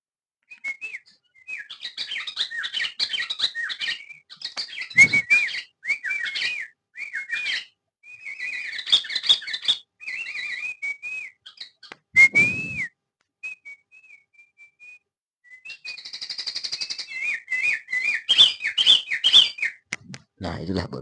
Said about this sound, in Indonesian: Nah itulah burung ya, burung ajaib.